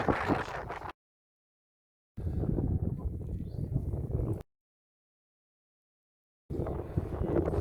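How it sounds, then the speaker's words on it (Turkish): Low, rumbling gusts of cold wind buffeting a microphone on a highland pasture near Posof, in three bursts, separated by stretches of complete silence. "Rüzgar sesi çok geliyordu benimki."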